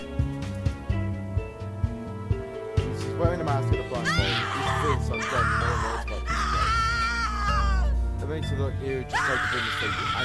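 In the horror video game The Cat Lady, a woman screams in long, anguished wails over loud, dark music with pounding low tones, building in intensity across the passage.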